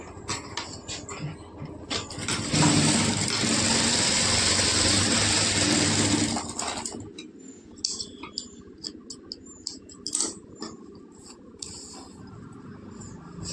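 Sewing machine stitching a seam on a lined blouse, a steady whirring run of several seconds, up close, followed by scattered handling clicks and rustles of fabric.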